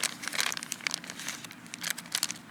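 Small 3M adhesive stickers for a GoPro Hero 7 Black helmet mount crinkle and crackle as they are handled up close, a steady run of light papery rustles with no speech.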